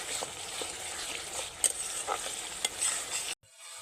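Masala stir-fried in hot oil with pointed gourd gives a steady, close sizzle with a few sharp scrapes and clinks of a spatula, then cuts off abruptly near the end.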